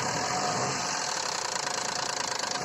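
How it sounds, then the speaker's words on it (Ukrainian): A Lexus IS 300 engine idles with a steady hum and a faint rapid ticking knock from worn VVT-i cam phasers, heard close and continuous. "Фазіки VVTI, е вони стучать"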